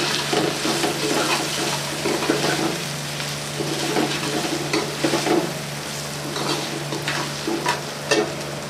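Red chillies fry in a pan with a loud, continuous crackling sizzle as they are stirred, with soft scraping and bubbling running under it throughout.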